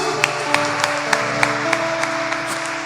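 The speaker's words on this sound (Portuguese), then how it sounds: "Aleluia, aplauda Jesus." A church congregation claps in time with sustained organ-like music, producing a steady beat of roughly ten sharp, evenly spaced claps standing out above the held musical tones.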